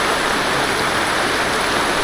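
Steady, dense rain pouring down in the rural countryside during the rainy season, a continuous loud hiss with no breaks.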